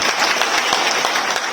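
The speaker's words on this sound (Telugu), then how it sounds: "చప్పట్లు కొట్టాలి ఒకసారి" An audience at a Velama community political rights meeting in Amaravathi breaks into dense, sustained applause, many hands clapping loudly and evenly throughout.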